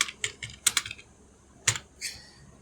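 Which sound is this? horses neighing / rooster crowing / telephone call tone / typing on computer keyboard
typing on computer keyboard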